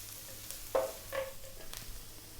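Ginger and garlic frying in a pan until light brown for spicy chicken hearts, a soft steady sizzle with a few stirring scrapes, faint and close, no voices.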